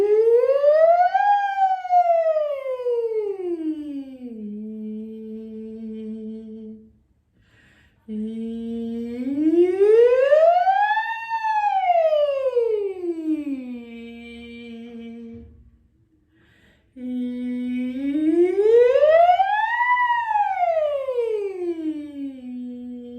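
A sung voice imitating a siren on a bright "ee" vowel, gliding up and down in three smooth sweeps with short pauses between, clear and close.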